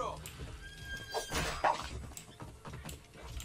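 A horse whinnies in Assassin's Creed Origins as its rider is thrown off during a bandit attack, a loud, close neigh over game clatter and a player talking.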